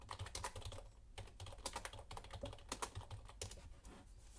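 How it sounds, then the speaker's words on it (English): Rapid, uneven clatter of keys being typed on a computer keyboard, close and continuous with brief pauses between bursts. "Man, I don't know how to type."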